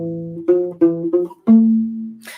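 A U-Bass plays a chord phrase up close: an opening held chord, several quick plucked repeats, then a longer ringing chord that ends with a short noisy scrape of fingers on the strings. No one speaks.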